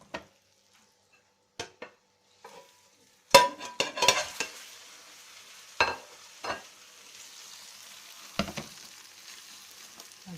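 A cheese börek cooks in a pan: a few sharp clinks and scrapes come first, then a soft, continuous sizzle with occasional clatter of cookware.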